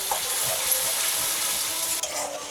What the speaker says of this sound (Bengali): আর দিচ্ছি 1 টেবিল স্পুন আদা রসুন বাটা। এই দুটোকে খুব ভালো করে আমি কষে নেব।